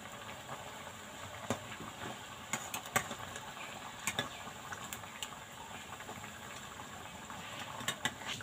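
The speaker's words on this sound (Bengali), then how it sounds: "এবার এক এক করে বিস্কুটগুলো ভেজে নেব।" Biscuits frying in hot white oil give off a steady low bubbling sizzle, quiet and close, with scattered sharp crackles and pops breaking through.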